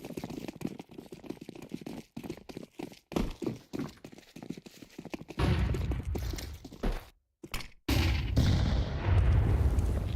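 Grenade blast and rapid gunfire in a Counter-Strike 2 tournament match, with bursts of shots, sharp gaps of silence, then a heavy, sustained rumbling explosion in the final seconds.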